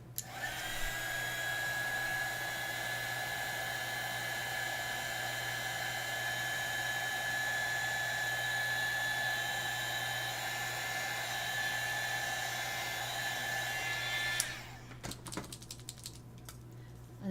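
A hair dryer blows a steady, even whir over alcohol marker coloring for about fourteen seconds, then cuts off, leaving a few faint clicks and taps.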